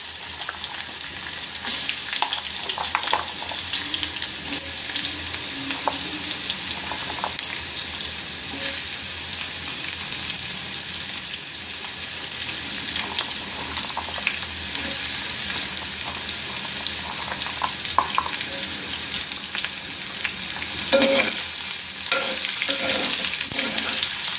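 Raw mango pieces fry in a pan with a loud, steady sizzle, stirred now and then with faint scraping; toward the end a few sharper clinks of a spoon rise above the hiss.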